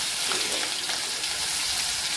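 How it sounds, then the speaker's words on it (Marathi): Chopped onion frying in oil in a pan with mustard seeds and cumin, a steady close hiss of sizzling throughout with no talking. "कांदा छान परतून घ्यायचा आहे।"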